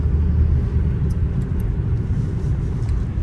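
A car engine drones steadily while driving in fourth gear during a driving lesson, a loud, even low rumble with no voices over it.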